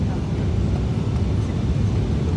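Steady broadband rumble of an airplane cabin in flight, a continuous low roar with no breaks, close and fairly loud.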